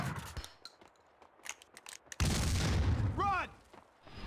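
Gunfire from the video game Max Payne 2, including shotgun blasts, bursts loud and dense in the middle with a swooping whistle, after scattered quieter impacts; a voice is also present.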